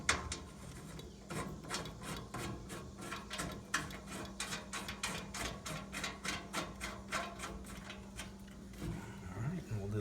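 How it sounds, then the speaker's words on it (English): A hand ratchet tightens the mounting bolts on a truck topper, rapid rhythmic clicking strokes repeated in quick bursts, close and fairly loud, with a short pause and a faint voice near the end. "Now we will bolt the mounting bolts in through the topper."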